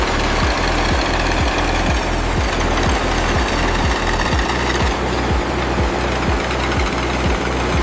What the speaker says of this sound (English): the massive drill bites through the final layer, tapping into the ancient oil reserve.